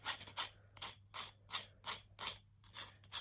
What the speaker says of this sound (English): sanding it off.